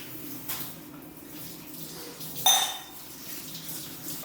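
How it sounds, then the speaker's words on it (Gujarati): Dishes, pots and pans are washed in a sink, with faint running water and a sudden brief metallic clatter partway through. "તો એનો વારો છે વાસણ ધોવાનો"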